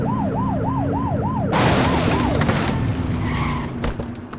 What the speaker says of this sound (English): Get behind them and blip the siren and make them pull over